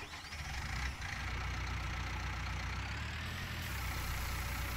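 A tractor engine idles in Farming Simulator 19, a steady low droning rumble with a constant hum, continuous and even throughout, with no talk over it.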